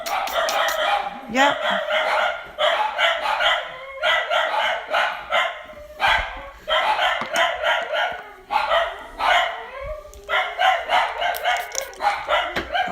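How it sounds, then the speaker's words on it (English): Several dogs bark frantically at a visitor arriving at the house, with loud, continuous volleys of sharp barks in close, rhythmic bursts, while a person speaks briefly amid the noise. "somebody's here and the dogs are gonna go crazy"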